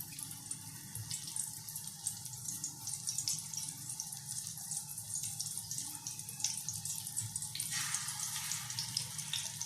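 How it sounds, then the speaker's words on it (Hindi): Potato chicken kebabs frying in oil over low heat, a dense, steady crackling sizzle with fine popping that continues evenly without pause, and no talking. "अब इनको हम गोल्डन ब्राउन होने तक तल लेंगे जी।"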